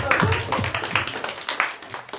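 An audience claps for two comedy show contestants, a short burst of scattered hands clapping near and fairly loud, thinning out after a couple of seconds, with voices mixed in.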